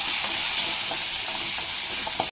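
Small shallots are added to hot oil already holding fennel seeds. They sizzle loudly and steadily, a bright continuous hiss with faint crackles, heard close and alone.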